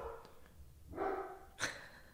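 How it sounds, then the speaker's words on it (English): A dog barks a few times, with a brief bark near the start, a louder call around the middle and a sharp bark near the end, somewhat distant over a quiet background. "Hey dog, shut up!"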